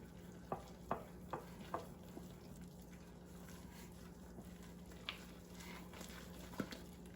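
Wet, sticky biscuit dough stirred in a bowl, giving a few soft squelching strokes early on and one or two later, faint over a steady low hum.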